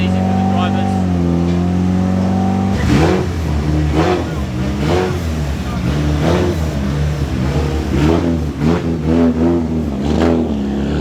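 Drift cars at a D1NZ event at Bay Park revving, a steady idle giving way to repeated sharp throttle blips and rising revs, loud and close, with voices talking over the engines.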